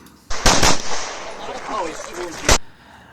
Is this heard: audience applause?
no